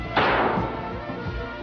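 A single sharp, heavy impact as a high-speed fragment strikes the armored side glass of an Mi-28 helicopter, with a short ringing decay afterward; no voices.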